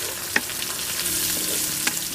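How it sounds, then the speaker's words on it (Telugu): Onion pieces with asafoetida frying in hot oil, a steady close sizzle with occasional stirring clacks of a spoon against the pan, no voices. "పెట్టుకున్న ఉల్లిపాయ ముక్కలు వేసుకుని 1 నిమిషం పాటు వేయించుకుందాం"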